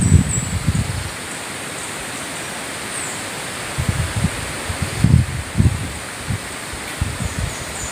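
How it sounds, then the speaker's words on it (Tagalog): Gusts of wind rustle through leaves in irregular bursts, loud at the start and again in the second half, with a steady hiss of breeze between. "Lakas ng hangin."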